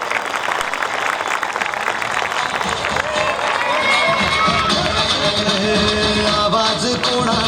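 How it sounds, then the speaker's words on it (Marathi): A large crowd at a political rally applauds and cheers to welcome Ajit Pawar, dense steady clapping with shouts and whistles throughout, loud and close, with voices mixed in. "अजितदादा पवार यांचं आपण टाळ्या वाजवून या ठिकाणी सगळ्यांनी स्वागत करावं"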